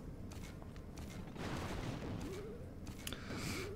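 Cannon carts firing on buildings in the Clash of Clans Builder Base mobile game, a steady run of rapid gunfire-like blasts and impacts mixed with game effects, no talk.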